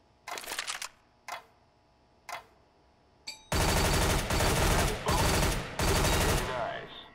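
Sharp gunshots ring out in a video game weapon course: a few isolated single shots, then a sustained run of rapid, loud, close fire aimed at a target.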